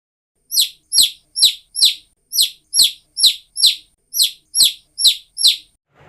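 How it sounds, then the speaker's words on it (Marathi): Chicks peep over and over, about a dozen short, bright, high chirps in a steady, evenly spaced rhythm, close and clear against silence. "कोंबडीचे पिल्लू"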